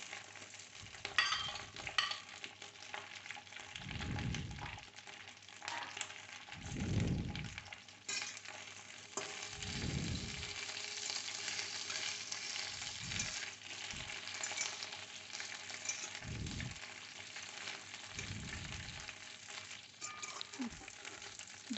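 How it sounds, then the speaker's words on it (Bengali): Okra (bhindi) frying lightly in oil in a pan, a faint continuous sizzle with occasional gentle stirring strokes spaced several seconds apart. "আমরা এটাতে ভেন্ডিগুলো ছেড়ে দিয়ে হালকা করে ভেজে নিচ্ছি।"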